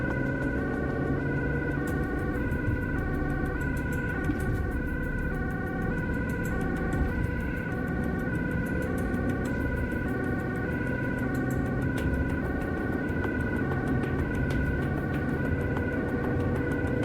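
A wailing Dutch ambulance siren cycles continuously, loud and steady, over low Amsterdam rush-hour traffic rumble with no talking.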